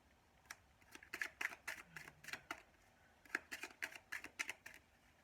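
Tarot cards being shuffled by hand make rapid, crisp riffling bursts in two quick runs separated by a short pause, close and fairly quiet, with no talking.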